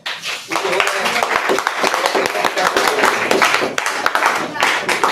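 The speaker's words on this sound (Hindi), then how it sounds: "ताली मारो" Students in a classroom clap together in a fast, crowded patter that carries on for several seconds, with voices mixed in underneath.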